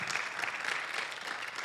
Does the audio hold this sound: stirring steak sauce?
no